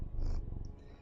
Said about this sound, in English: if you can hear him purring